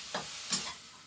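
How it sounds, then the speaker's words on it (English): Basmati rice gets a quick stir in a pan, two soft scraping swishes over a faint sizzling hiss, quiet and close. "I'm going to give that a quick stir"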